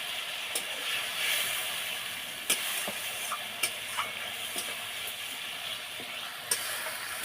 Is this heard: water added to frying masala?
yes